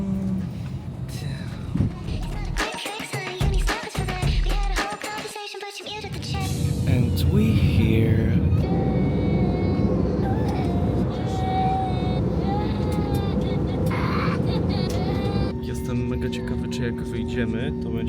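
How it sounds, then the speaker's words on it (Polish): Steady broadband drone of an airplane cabin on board, loud and continuous, with someone talking over it early on and brief dips before the noise settles into a constant roar. "Jesteśmy już w samolocie."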